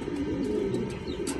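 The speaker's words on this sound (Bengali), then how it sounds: "দেখেন ডাইরেক্ট এটা ডিভির কবুতর, বাইরের একটা ইম্পোর্টেড ব্রিডের একটা কবুতর" An imported-breed racing pigeon on a farm coos steadily at close range, a low, soft, continuous murmur with faint higher chirps above it and no talking.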